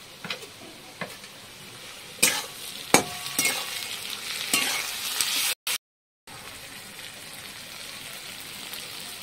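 Ground spices, garlic and red chilli paste poured into a hot pan of oil, with a crackling sizzle and sharp stirring clicks, a brief gap, then steady frying.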